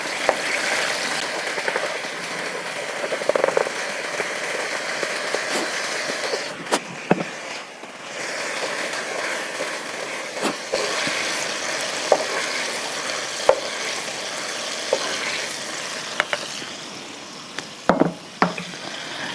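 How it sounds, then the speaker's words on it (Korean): Chunjang black bean paste frying in a generous amount of oil in a pan, a steady close sizzle and crackle with occasional sharp spatula scrapes and taps, no voices. "기름을 넉넉히 두르시고 튀기듯이 두 큰술을 넣으시고 춘장의 씁쓸한 맛을 없애기 위해서 튀기듯이 묽어질 때까지 볶아주실게요."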